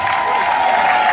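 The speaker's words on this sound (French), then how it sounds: "On applaudit chaleureusement" At a political rally in Libreville, Gabon, a crowd claps warmly in a brief, steady burst of applause, with a ringing amplified tone underneath.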